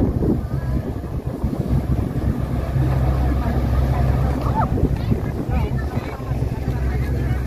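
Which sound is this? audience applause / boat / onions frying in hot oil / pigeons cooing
boat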